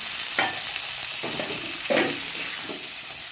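Onions and potatoes sizzle steadily in a pan, with several rhythmic stirring scrapes of a spatula against the bottom, close and clear.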